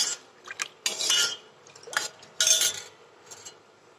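A spoon scrapes and clinks against a pot while milk with added milk powder is stirred as it heats for makhana kheer, with several sharp metallic knocks spaced irregularly and fairly close, no talk.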